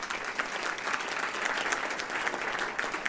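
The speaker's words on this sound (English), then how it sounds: "So they deserve a great round of applause and thanks." Audience applause fills the room after a request for thanks during a live arts show, a dense, steady patter of many hands clapping at moderate distance, sustained without pause throughout.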